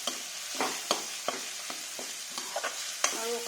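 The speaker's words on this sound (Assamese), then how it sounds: "মছলাখিনি ভাজি হৈ গৈছে" Spices sizzle in hot oil for a chitol fish curry made with mustard and poppy seed, with close, irregular scrapes and taps of a stirring spatula over a soft, steady fry.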